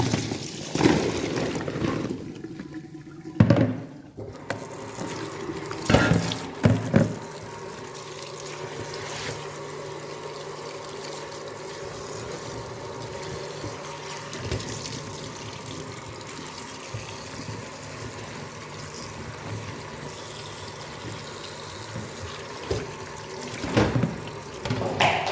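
Water pours onto grain that has soaked overnight, splashing and gushing in a few bursts near the start, then settling into a quieter steady trickle with occasional louder pours toward the end.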